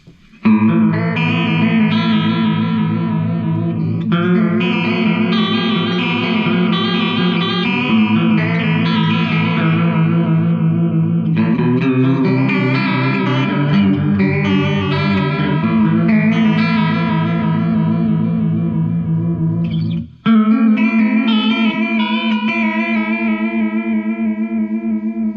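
An instrument played through a mystery analog chorus pedal with the rate raised, giving sustained, shimmering, warbling chords that change over about twenty-five seconds, with one brief dropout near the end.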